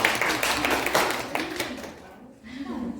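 Applause in a school classroom at a festive lesson, dense clapping from the class that fades partway through before picking up again.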